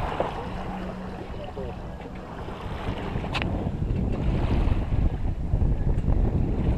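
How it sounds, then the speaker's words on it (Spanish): Strong wind gusts buffet a sailboat flying a gennaker off Barcelona, a loud rushing roar over water that builds toward the end, with faint voices under it. "ha cambiado la dirección del viento al entrar a la racha"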